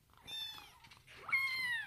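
A young tiger at feeding time gives two soft, drawn-out meow-like calls, close and quiet, separated by a short pause.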